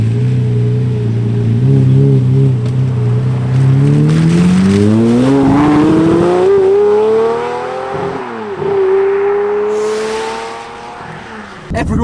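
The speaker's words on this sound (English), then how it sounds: "We're going to build the revs up." Lamborghini Murcielago engine revs climbing steadily from a low rumble to a loud high wail, easing off briefly, then building again, close and dominant.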